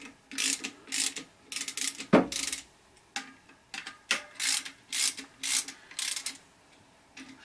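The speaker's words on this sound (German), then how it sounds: "Kann man gerne mit der kleinen Rätsche vorarbeiten und wieder kreuzförmig anziehen." A small hand ratchet tightens car clutch bolts in a crosswise pattern, giving a steady run of close, crisp clicking strokes in short rhythmic bursts.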